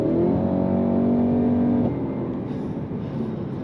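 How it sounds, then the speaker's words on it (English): The V8 of a 2025 Cadillac CT5-V Blackwing in sport mode revs up loud and close, holds a rising growl, then drops back to a lower rumble after about two seconds. "Moving into sport, as I've done now, perks up the throttle response. Hear more from the V8."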